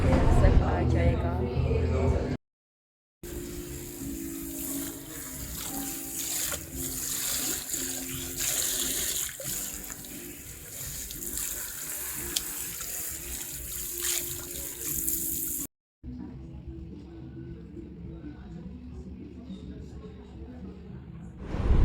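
Running water rinses hair at a salon basin during a keratin treatment, a steady close hiss of flowing tap water with splashing, broken by brief gaps and faint background voices.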